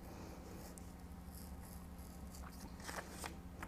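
An X-Acto knife trims a paper circle, producing faint, close scratchy cuts and light scraping that grow a little more distinct toward the end, with no voices.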